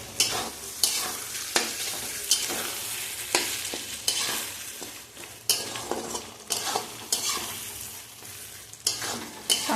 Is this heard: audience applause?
no